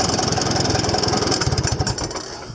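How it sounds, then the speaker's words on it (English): Farmall C-189 tractor engine running at a steady idle, loud and close, then its rumble sags and trails off in the last second as the engine is shut down. "So, I'll shut the engine off here so you can hear me a little better."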